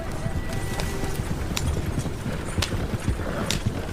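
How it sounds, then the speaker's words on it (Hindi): Horse-drawn carriage hooves clip-clopping in a steady rhythm as a sound effect in a Hindi horror audio drama, moderately loud under a bed of ambient noise. "और जब घोड़ा गाड़ी उसकी नजरों से ओझल होने लगी"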